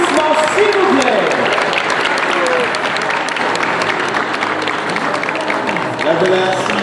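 Audience applause at an equestrian show, steady dense clapping from a large crowd, with a voice over a public address system talking above it.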